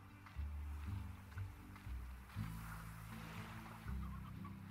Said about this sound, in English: that's a rocky hen